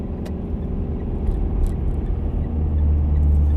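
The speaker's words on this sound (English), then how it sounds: "dump trucks having a drag race up the hill." Two dump trucks drag racing up a hill, heard as a distant, low engine rumble that builds gradually louder toward the end, with a few faint background clicks and no talk.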